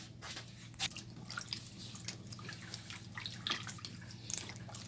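Water is poured off parboiled meat for pepper soup, giving faint splashing and dripping with irregular small drops and trickles, close to the microphone and without talk.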